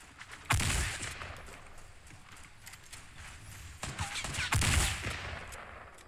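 Gunfire in the video game Fortnite during a 50v50 match, several loud bursts of shots with a steady game background beneath, mostly without talk.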